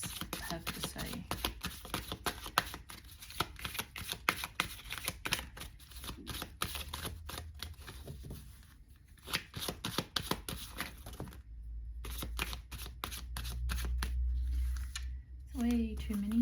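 Tarot cards are shuffled by hand in quick riffling bursts and soft flicks, close and fairly quiet, with a pause near the end.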